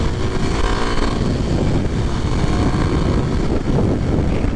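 A 2023 Kawasaki KLX 300SM single-cylinder motorcycle under way, with a loud, continuous engine drone mixed with heavy wind rush as it pulls through the gears, recorded on board.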